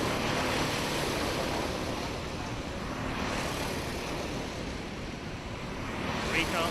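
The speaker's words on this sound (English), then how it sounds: "Karts line astern for the lead." Racing karts at Buckmore Park make a continuous droning engine roar blended with broadband noise, steady and moderately loud, under a commentator's voice.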